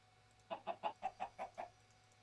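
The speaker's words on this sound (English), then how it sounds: "And I put some chickens over here." Chickens cluck in the Minecraft video game: seven short, evenly spaced clucks in a quick regular rhythm, clear and moderately loud over a quiet background with a faint low hum.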